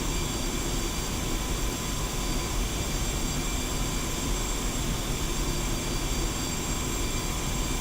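An Su-25T Frogfoot jet taxiing in the DCS flight simulator, its engines a steady, dense, broadband roar with a high whine, unbroken and even for the whole stretch.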